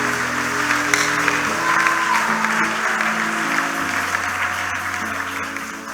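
Congregation clapping in church during a bilingual French and English service, a loud, sustained round of applause from a large crowd lasting several seconds and tapering slightly at the end.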